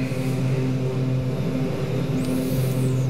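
Twin turboprop engines of a Beechcraft King Air B200 run at full RPM in a simulator, a loud, steady droning hum with layered engine tones and no pauses.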